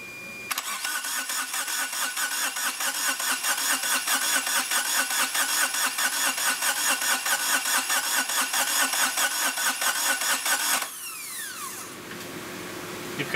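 A Kubota diesel engine fitted into a Geo Metro cranks over on the starter without the glow plugs, a loud, even chugging rhythm lasting about ten seconds before cutting off into quieter whirring.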